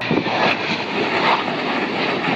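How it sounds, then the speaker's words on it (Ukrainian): A MiG-29 fighter jet flying during a military exercise, a steady, loud broadband engine roar that holds at an even level throughout, with no voices. "Винищувачі міг 29 відбили умовний напад ворожих су 24 та су 27"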